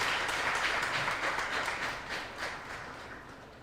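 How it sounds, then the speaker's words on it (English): An audience at an International Women's Day event applauds a group of women, a steady wash of many hands clapping at moderate volume that slowly thins toward the end. "let's give them a round of applause again."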